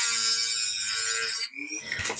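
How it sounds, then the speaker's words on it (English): Dremel rotary tool cutting into wood, a high whining buzz running steadily for over a second before cutting off, then a short rougher grind. "I'm going to use my Dremel and cut just a section out of here"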